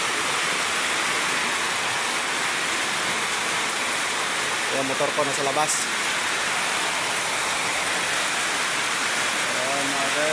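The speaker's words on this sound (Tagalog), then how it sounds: "Ito yung medyo malakas-lakas na ulan." Fairly heavy rain pours steadily as a dense, constant hiss throughout, with a brief burst of someone talking partway through and faint voices near the end.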